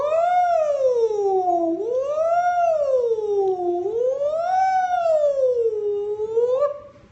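A human voice imitates a siren, sliding up and down in long, smooth wailing sweeps, loud and close, about four cycles before trailing off.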